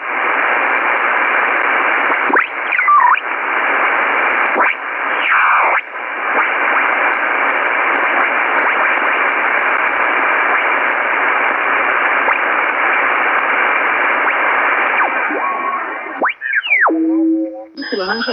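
Shortwave radio receiver hissing with band-limited static on a clear night, steady and loud throughout, with brief tuning sweeps and chirps near the start and a burst of whistling tones and fragments of a station near the end.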